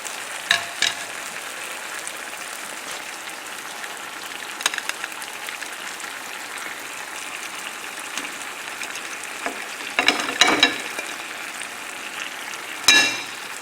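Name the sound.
dry white wine added to a pan of simmering cod and tomatoes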